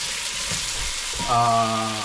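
Onions sizzle steadily in a pot as sinigang na baka cooks, a constant close frying hiss, with someone speaking over it near the end.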